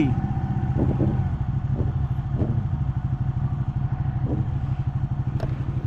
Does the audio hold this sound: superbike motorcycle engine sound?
yes